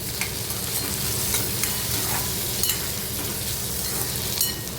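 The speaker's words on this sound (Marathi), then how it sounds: "आता याच्यामध्ये बारीक चिरलेला टोमॅटो घालायचा आहे आणि तेही मिक्स करून घ्यायचं आहे" Chopped tomato being stirred into fried onion in a pan for a Marathi kurdai bhaji, with a steady sizzle and scraping spoon strokes running continuously throughout.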